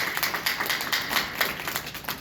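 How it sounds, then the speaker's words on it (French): A church congregation clapping to welcome a visitor, a steady stream of quick overlapping claps at moderate volume, slightly distant and without speech. "applaudis bon Dieu, applaudis mon Dieu"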